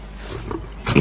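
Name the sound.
lioness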